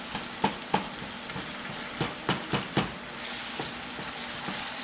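Ground meat fries for LA-style fried tacos in a hot pan, a constant crackling sizzle punctuated by sharp spatula taps and scrapes every half second or so, close and clear with no voices.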